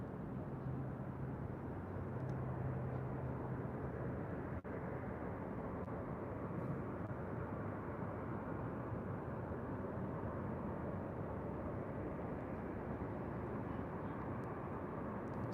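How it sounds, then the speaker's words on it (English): An Emirates A380 Super airliner arrives at LAX from Dubai, a continuous low distant jet rumble and roar holding steady throughout with no talk. "our next arrival is the Emirates A380 Super"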